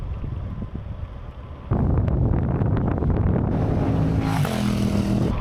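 Wind buffets a microphone during an outdoor bike ride as gusts shift, a steady loud rushing roar that jumps louder after the first two seconds and keeps blowing, with faint rumbling underneath.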